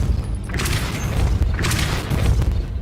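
Depulso spells are cast in the video game Hogwarts Legacy, sounding as deep booming blasts with bright crackling bursts. Two main blasts come about a second apart over a rumbling low-end bed, and no one speaks.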